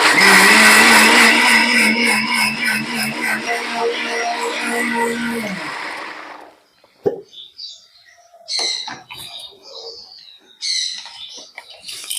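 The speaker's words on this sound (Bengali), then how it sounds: "চালটাকে বেটে নিয়েছি" An electric blender grinds soaked rice for a few seconds in a loud, dense whir that wobbles and then cuts off, followed by scattered clinks, taps and handling noises in a quiet kitchen.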